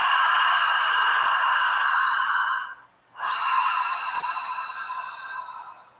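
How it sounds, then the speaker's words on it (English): Long, breathy ha exhalations with a constricted throat, one sustained breath broken by a brief pause around the middle, then another steady breath continuing. "Narrowing the passageway at the back of the throat to create that ha sound."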